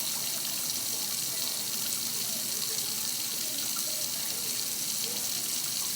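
Tap water runs steadily into a sink as items are rinsed during cleaning and sanitation, a constant close gush with no talking.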